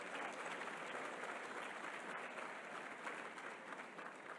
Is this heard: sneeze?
no